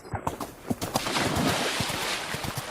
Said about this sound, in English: Look, she's on a horse.